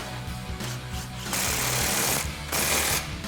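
An impact wrench with a 15mm socket tightens exhaust clamps on a 2024-2025 Mustang GT cat-back exhaust, firing in loud, close, rattling bursts separated by brief pauses.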